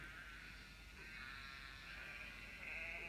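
A sheep bleats faintly, a thin wavering cry over a steady low background hum.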